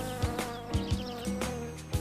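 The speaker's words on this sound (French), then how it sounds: "Mais les moucherons, ils ont tout gâché." Buzzing gnats in a cartoon hum in a steady, whining drone, with soft rhythmic thumps underneath and no talk.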